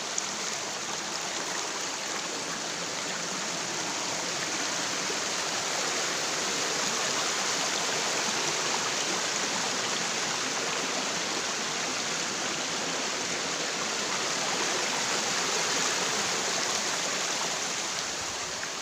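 A cold creek near Lambingan Falls rushes continuously over rocks, a broad, even roar that holds steady and close for the whole stretch with no voices.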